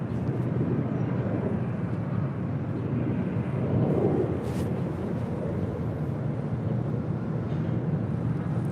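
An Airbus A321neo departs LAX runway 25 right, heard as a continuous low, rumbling engine roar that swells slightly midway, distant and steady with no talk.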